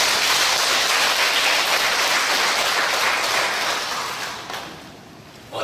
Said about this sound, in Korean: 경례 박수 한번 쳐주시죠.